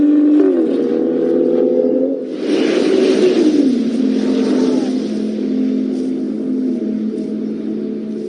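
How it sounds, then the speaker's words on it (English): Race car engine at the Nürburgring circuit during an endurance series race, a loud sustained drone that shifts pitch as the car changes gear and passes, steady throughout with no talk. "of those still out on the circuit, Mikkel Jensen leading Walkenhorst Motorsport BMW."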